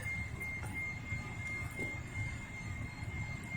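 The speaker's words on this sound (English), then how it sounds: "Unless that's another train coming up. It sounds closer." A southbound Norfolk Southern freight train rumbles past in Lynchburg, Virginia, a steady low roar with a sustained high whine riding above it, close and continuous throughout.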